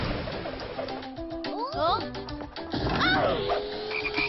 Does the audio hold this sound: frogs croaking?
yes